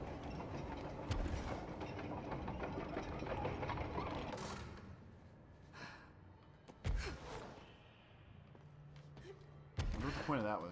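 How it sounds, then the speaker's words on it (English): Train running in the video game Control: a steady mechanical rumble with ratcheting clatter and a few sharp metallic bursts, loud and continuous, while a person talks over it. "More of the choo-choo train."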